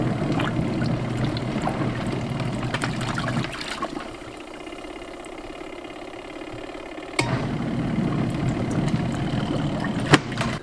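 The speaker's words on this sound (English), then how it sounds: "add a little more water" Water pours and splashes continuously into a portable mini washing machine during off-grid laundry, a steady close rushing that briefly drops lower mid-way before resuming, with a sharp knock near the end.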